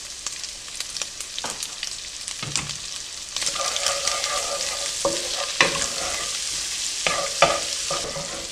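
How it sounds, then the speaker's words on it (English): Half a stick of butter melts into sausage sizzling in a pan. The steady frying hiss grows louder partway through, with close clicks and scrapes from stirring. "We want to melt that into the sausage."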